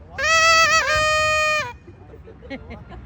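Party horns give a loud, buzzy blare that sustains for over a second, then cuts off, followed by quieter scattered noises, at a New Year's fireworks gathering at the Burj Khalifa.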